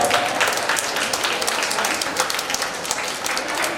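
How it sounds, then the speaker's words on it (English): A crowd at a mall cooking and fashion event in Mysore breaks into steady, dense applause with scattered individual claps, sustained for nearly four seconds. "Please give a big round of applause."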